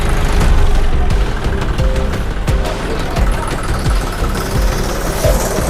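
A tractor diesel engine runs at close range while pulling a heavily loaded PTO trailer, chugging and knocking with a steady rough rhythm and occasional clanks.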